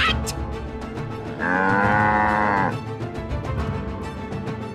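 Cartoon cattle mooing in a herd, one long sustained moo rising out of a busy background of animal noise and sound effects, fairly close and loud.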